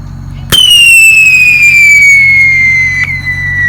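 A firework launched at night gives a sharp loud crack, then a long descending whistle trailing off over a few seconds, with a faint second pop near the end and steady background hum.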